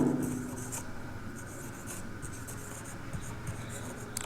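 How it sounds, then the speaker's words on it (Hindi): Hand writing an example on a board or page during a Hindi-language English grammar lesson, a steady scratchy stroking that runs throughout, fairly quiet and close, with faint background noise. "जैसे मैं एक एग्जांपल लिख रहा हूँ"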